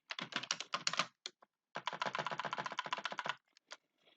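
Rapid bursts of computer keyboard typing while working in Microsoft Excel, close and clear, with a brief pause in the middle before another long run of quick keystrokes and a few final isolated taps.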